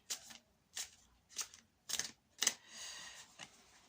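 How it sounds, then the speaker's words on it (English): Tarot cards are shuffled in five or six crisp riffling bursts, evenly spaced, close and quiet, with no talking. "this is the shuffling part in case you like to watch the shuffling"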